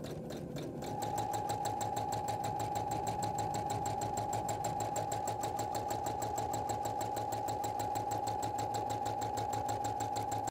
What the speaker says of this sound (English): I'm just going to stitch roughly around each shape, twice, maybe three times